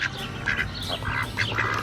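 Little ducks at a dairy farm quack in short, repeated bursts close by, several calls overlapping over a quiet outdoor background.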